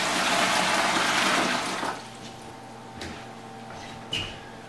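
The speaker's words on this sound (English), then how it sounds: "we're going to take 2 gallons of cold water and dump it in our plastic bucket" Two gallons of cold water dumped into a plastic bucket for turkey brine, a loud rushing pour for about two seconds that tapers into softer trickles and a few sloshing splashes.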